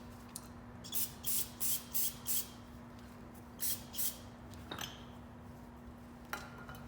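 Short hissing bursts of aerosol cleaner sprayed onto the grimy axle parts of a Chevrolet Cobalt, about eight quick pumps in uneven clusters over a steady low hum, with no talking.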